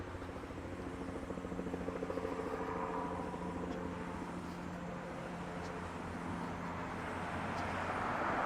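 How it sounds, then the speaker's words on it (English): A helicopter passes overhead on a city street, its steady rotor drone loud and continuous throughout and swelling slightly toward the end. "there's a chopper flying overhead"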